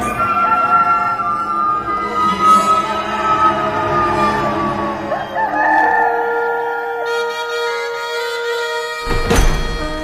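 A rooster crows once, loud and drawn out, over a dense layer of music or ambient sound, followed by a brief thump near the end.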